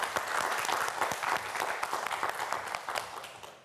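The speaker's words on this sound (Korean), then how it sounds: "파이팅 외치면 박수 보내주세요" Studio audience on a televised Korean quiz show claps after a cheer for two student contestants, a dense, steady burst of many hands lasting a few seconds and fading slightly at the end.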